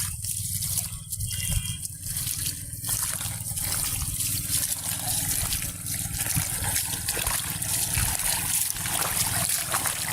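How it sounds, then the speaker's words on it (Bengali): Water gushes at full load from the 6-inch pipe of a petrol-powered irrigation pump beside maize and garlic fields in Chalan Beel, Bangladesh, a steady close rush with brief voices early on. "এদিকে আসেন, আমরা দেখি পানি কেমন জোরে আসে।"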